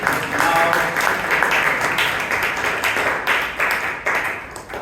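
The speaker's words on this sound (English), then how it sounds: "round of applause once again to Puneeth." An audience applauds steadily for several seconds, a dense wash of clapping hands that fades slightly toward the end.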